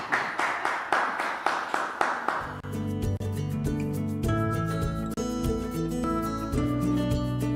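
Audience applause in a Brazilian TV studio programme, a burst of claps lasting about two seconds before giving way to loud music.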